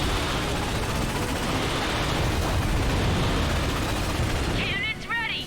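Continuous loud roaring barrage of cannon fire and explosions in a Ratchet and Clank space battle, dense and unbroken for several seconds, with a brief whooshing sweep near the end.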